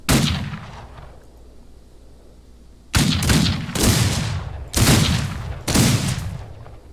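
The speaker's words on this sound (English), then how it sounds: "Man, the gunfire sounds cool." Loud bursts of video game gunfire: an opening volley fading into a lull, then four heavy rapid-fire bursts in quick succession, close and booming.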